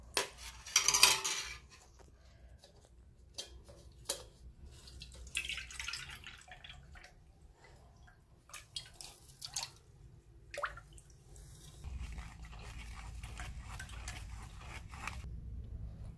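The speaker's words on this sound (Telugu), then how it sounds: "బెల్లం అంతా ఇలా కరిగేంత వరకు కలుపుకున్న తర్వాత వేరే బౌల్లోకి వడకట్టుకోవాలి." Melted jaggery liquid strained into a bowl, heard as quiet, intermittent drips and trickles with occasional light clinks of utensils, close by and faint.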